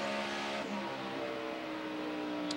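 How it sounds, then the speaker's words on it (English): A NASCAR stock car engine at Pocono during the 2011 5-Hour Energy 500 holds a steady, buzzing drone that shifts pitch briefly early on, then carries on evenly at moderate distance. "You hear the difference in the RPMs when you're shifting and you're not shifting."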